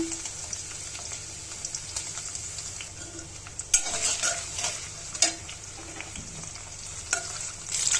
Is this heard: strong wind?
no